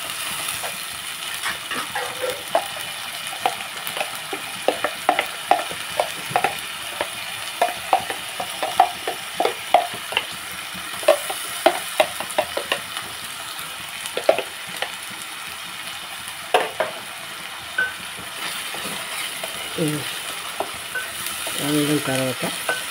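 Onion paste with ginger, garlic, cumin and coriander paste fries in a pan with a steady low sizzle, broken by frequent sharp clinks and scrapes of a spoon stirring against the metal.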